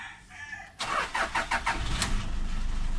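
A Toyota Fortuner being started for a dashboard gauge blackout repair: a short quiet lead-in, then a rapid run of starter cranking pulses catches into a steady, close engine idle.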